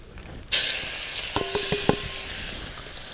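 Ginger-garlic paste dropped into hot oil already tempered with cumin and asafoetida for Kathiyawadi-style pakoda, bursting into a loud, steady sizzle with a few spoon taps against the pan.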